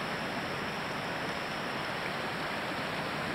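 Stream running high with hillside runoff behind a house, a continuous broad rushing hiss of water, steady and close with no voices.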